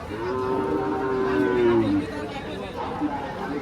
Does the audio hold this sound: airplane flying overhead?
no